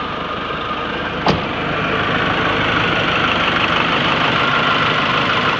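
A car engine with a high-pressure fuel injection pump, fuel clamp just removed, catches with a brief sharp burst, then settles into a steady, loud, even idle drone that continues to the end.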